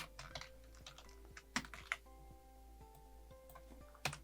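Keys clatter in quick, uneven bursts as text is typed on a computer keyboard, with a few louder strikes standing out against a steady low hum; no one speaks.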